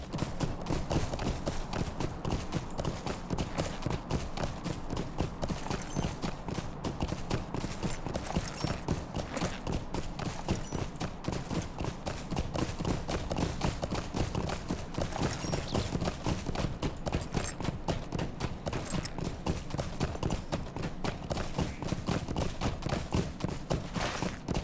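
Horse hooves gallop steadily for the whole stretch, dense and rhythmic over a continuous outdoor bed, while a mounted character rides past enemies in The Lord of the Rings Online.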